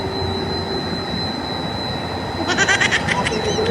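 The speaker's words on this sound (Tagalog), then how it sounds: "Ayan yung ating CO2 pump. Yun o. Pasensya na po at napakaingay po." A loud CO2 pump runs nearby as a constant mechanical drone with a faint tonal hum, and a brief warbling rise cuts in toward the end.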